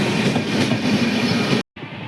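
A train arriving at a station: a loud, close, steady rumble of wheels and carriages that cuts out abruptly near the end before resuming more quietly.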